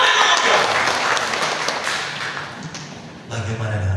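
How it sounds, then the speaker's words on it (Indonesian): A church congregation applauds during a Sunday morning sermon, a dense wash of clapping that thins and fades over a few seconds before a voice returns. "Kita berikan tepuk tangan."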